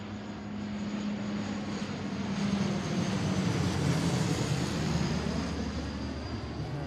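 A WestJet propeller airplane lands at Seattle's SEA airport on a runway 34L arrival, a steady broad engine roar with a low droning hum that holds at moderate distance and swells slightly midway, with no talking.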